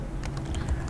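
Brief burst of keyboard typing as a remark is entered into mobile and computer repair management software, several quick, close keystrokes heard alone over a low hum.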